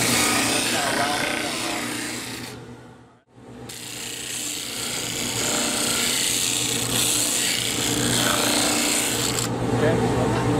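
A disc sander in a junior high school shop grinds a piece of wood into a rounded curve, a loud, steady, close rasp over a constant motor hum, breaking off briefly once before carrying on.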